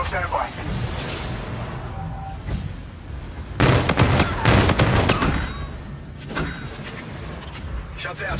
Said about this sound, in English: Shots out.